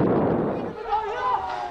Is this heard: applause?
no